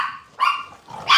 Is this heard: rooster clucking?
no